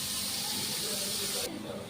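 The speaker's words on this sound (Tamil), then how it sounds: "பேன் ஹீட் ஆகிடுச்சு. நான் கருவேப்பிலையும் ஆனியனும் போட்டுக்கிறேன்." Onions and curry leaves hit a hot pan for a Tamil-style biryani egg pasta, giving a steady, loud broadband sizzle that hisses throughout and eases slightly near the end.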